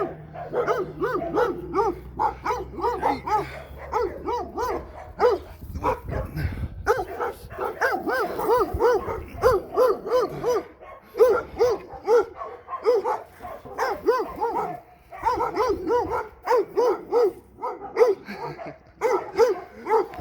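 Several dogs at a dog pound bark and yip repeatedly in overlapping bursts, some whimpering, echoing as if in an enclosed kennel area, with a low hum early on.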